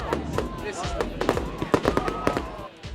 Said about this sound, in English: Once the fire is alight, it's time for fireworks.